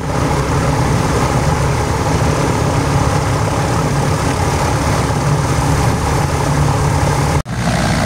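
An aircraft engine idles before takeoff with a loud, steady broadband drone and low rumble that holds almost unchanged, then briefly cuts out near the end, with no voices.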